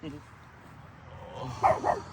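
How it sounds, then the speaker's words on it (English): A dog at a cemetery gives two quick barks near the end, moderately close, after low background murmur and faint voices during headstone cleaning. "He's friendly, he just barks."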